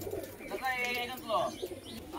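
Pigeons cooing at a pigeon-keeper's loft, brought from Andhra Pradesh, with a couple of soft warbling coos close by amid faint background voices.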